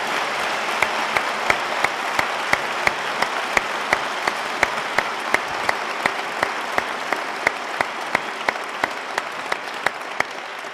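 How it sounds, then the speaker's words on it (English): An audience at an atheism versus religion debate applauds steadily in a large hall, the crisp claps forming an even, sustained wash at moderate loudness. "A round of applause for both gentlemen"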